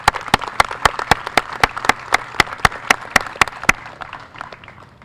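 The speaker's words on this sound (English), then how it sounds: "I want to extend a special round of applause to these exceptional individuals" Applause at a softball complex ribbon-cutting ceremony, a sparse, steady rhythm of distinct single claps close by, evenly spaced and loud, tapering off after about four seconds.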